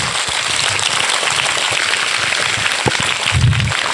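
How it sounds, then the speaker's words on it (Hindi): A gathering at a coaching institute's event honoring a student claps loudly and continuously, a crackling, rain-like patter of many hands with a few louder individual claps standing out. "बार जोरदार ताली हो जाए"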